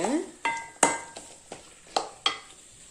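Onions stirred in a hot pan with turmeric and a light sizzle, marked by several sharp scraping strokes spaced about half a second apart, close and fairly quiet.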